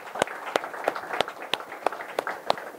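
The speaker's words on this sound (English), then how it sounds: "I think we should give them a round of applause." An audience applauds instructors at a welcome event with a steady series of sharp, evenly spaced claps about three per second, moderately close and fairly quiet, with no one talking.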